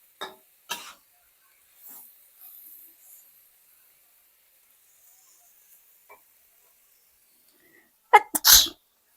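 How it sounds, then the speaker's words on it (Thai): One sharp sneeze bursts out near the end in a kitchen while long beans with pork belly are stir-fried, after a stretch of near silence broken by a few soft clicks and rustles. "จามไปหนึ่งทีค่ะ"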